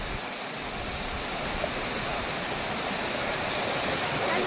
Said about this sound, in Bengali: এটা একদম নিচের থেকে ভিউ, বামনি ওয়াটারফলস, অযোধ্যা পাহাড়, পুরুলিয়া। দারুণ সুন্দর জল পড়ছে।